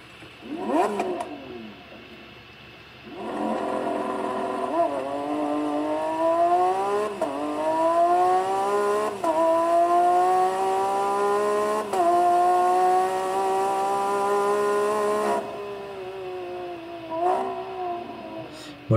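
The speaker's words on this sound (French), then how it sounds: "ces V12 atmosphériques, ils sont réputés pour avoir une sonorité particulière et une sonorité absolument magnifique" A Lamborghini Aventador 780-4 Ultimae's naturally aspirated V12 revs loudly in repeated climbing surges, each pitch rising before a brief drop at the gearchange, then cuts off abruptly and leaves near silence.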